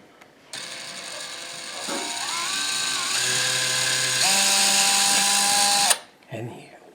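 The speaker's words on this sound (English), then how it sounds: "we're just going to drill a small little pilot hole right here." A power drill bores a small pilot hole into an existing ceiling for recessed lighting, running as a steady whine for about five seconds with pitch shifts as the bit cuts, loud and close, then stopping.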